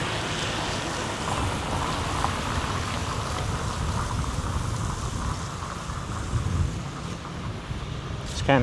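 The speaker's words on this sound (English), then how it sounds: "raining a little, not too bad." Light rain falls steadily outdoors by a lake in Tay Ho, Vietnam, a continuous soft broadband hiss with faint wind and water noise, fairly even throughout and with no speech.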